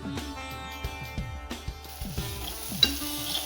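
Malvani masala spice mix frying in hot oil as tempering for katla greens, a soft sizzle broken by repeated stirring clinks and scrapes, fairly quiet, with no talk.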